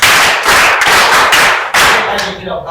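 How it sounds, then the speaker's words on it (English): An audience claps loudly and steadily for a few seconds, a dense patter of many hands that is near and continuous, then fades out at the end. "Clap for this guy."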